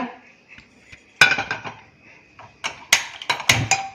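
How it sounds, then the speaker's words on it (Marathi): A metal pan set down on a home kitchen stove to heat while a spiced curd dish is made, giving a sharp clank followed by a few lighter clinks and knocks of cookware nearby. "आणि आता पॅन गरम करायला ठेवूया."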